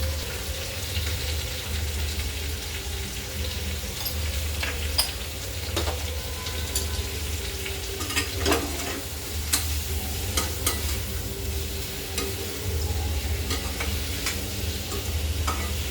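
Vegetables and onion for mushroom chili are stir-fried over a high gas flame, with a steady sizzle and scraping stirring strokes. The pan noise runs continuously and close by.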